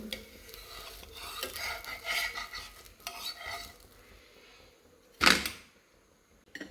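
Fried sago dosa lifted off a hot pan, with soft scraping and rubbing strokes of a spatula and a sharp louder scrape near the end, close and quiet.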